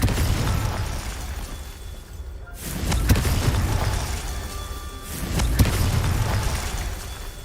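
Confringo blasting-spell explosions in the video game Hogwarts Legacy: two booming blasts, a few seconds apart, each followed by a crackling rumble over continuous game ambience, with no talk.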